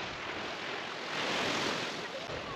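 Waves wash over the beach at Kerfani on a summer evening, a steady broadband surf hiss that swells slightly midway, heard from a short distance and mixed with a little wind noise.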